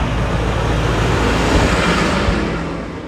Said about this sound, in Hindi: अभी एक ट्रक वाला आ रहा है